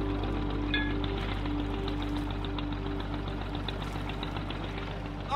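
A small fishing boat's engine idles with a steady low chugging knock off the coast of Lima, Peru, running continuously and fairly close with no talk over it.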